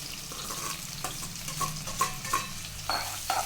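Onions sizzle and crackle in a hot pan after fennel seeds, for egg thokku, with a steady frying hiss broken by stirring scrapes at irregular intervals, heard close up and without talk.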